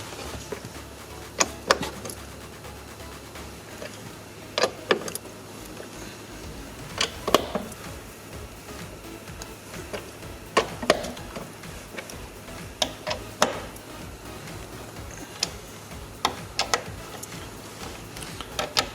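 Bolts are loosened on a Dodge Journey rear blower motor, a series of sharp ratchet-like clicks and ticks repeating irregularly every second or two over a quiet workshop background, with no talk.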